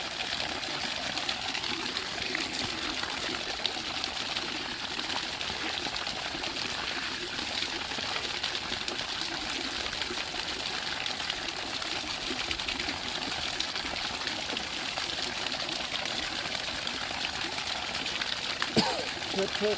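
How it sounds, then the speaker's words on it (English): Fresh river water gushes out in a steady, full-band rush that continues unbroken throughout. "It's all fresh water from the river."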